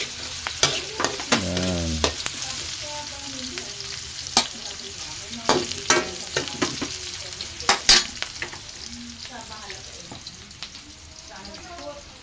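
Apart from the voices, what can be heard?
sautéing garlic and onion in a pan for pancit bihon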